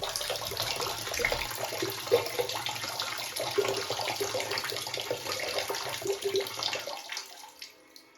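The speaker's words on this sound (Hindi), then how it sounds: "पानी ऑन हो गया है और वॉशरूम में कोई है भी नहीं" Water runs steadily from a bathroom tap into a washroom basin, a broad close hiss that lasts several seconds and then stops abruptly as it is turned off, with no talking.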